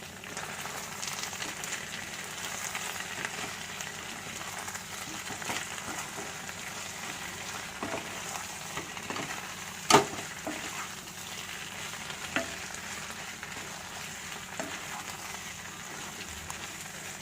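Chicken manchurian with spring onion being stir-fried in a pan, a steady low sizzle with soft scraping stirs and one sharp clink partway through, fairly faint and with no talking.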